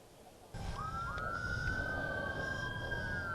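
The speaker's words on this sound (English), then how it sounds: "You can hear these sirens for a long time here" A siren kicks in abruptly and wails upward into a sustained rising tone, loud over a rumbling engine.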